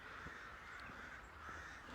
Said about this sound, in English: There's a lot of crow action going on, a lot of blackbirds.